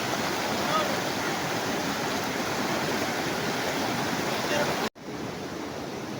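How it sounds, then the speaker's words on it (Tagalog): Fast floodwater of the Maasin River near Maasin Dam, Brookes Point, Palawan, roars as a steady broadband rush close by, loud and unbroken until a sudden brief dropout near the end. "yung ilog ng Maasin, nabutan kami ng baha"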